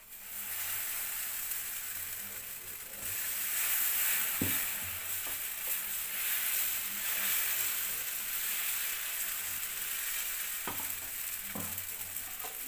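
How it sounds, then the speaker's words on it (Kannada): A jowar (sorghum) dosa cooking on a hot pan gives a soft, even sizzle that holds steady throughout, with a few faint scrapes and taps of a utensil near the middle and end. "ಅದೇ ಥರ ನಾನು ಇಲ್ಲಿ ಇನ್ನೊಂದು ದೋಸೆ ಹಾಕ್ತಾ ಇದ್ದೀನಿ"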